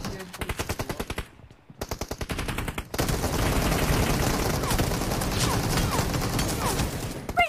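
Rapid automatic gunfire from a PUBG team deathmatch, with bursts of shots, a short pause, then a dense continuous barrage of overlapping fire.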